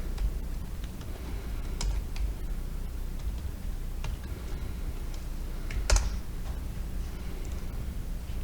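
Text being typed on a computer keyboard, with quick soft clicks in irregular bursts and one louder keystroke near the end, close and alone with no voices.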